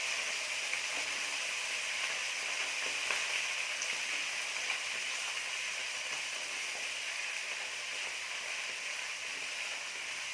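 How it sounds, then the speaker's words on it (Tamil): Eggplant and potato pieces sauté in hot oil in a pan for a South Indian dried fish curry, karuvattu kulambu, giving a steady, moderately loud sizzle with a few light stirring scrapes and no talking. "சேர்த்து இப்போ நல்லா வதக்கிக்கலாங்க"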